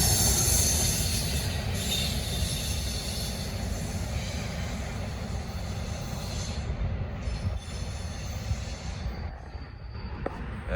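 A Norfolk Southern freight train, number 241, rolls southbound past at night with a steady, loud rumble of wagons and wheels, sharp wheel squeals, and the noise easing toward the end; no talking.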